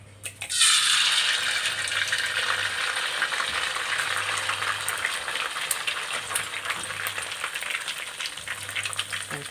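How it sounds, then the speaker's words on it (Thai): Eggs hitting hot oil in a pan for Isan-style fried rice with pla ra, a loud close sizzle that bursts in near the start and crackles steadily throughout, with no talking. "วอมน้ำมันเสร็จนะก่อนแล้วก็ใส่ไข่กันได้พี่น้องด้วย"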